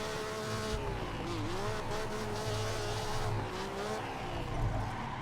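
A Ferrari Testarossa in a video game drift mod slides with tires squealing in wavering pitched whines over a constant engine drone, the squeal bending and sustaining for several seconds at moderate volume.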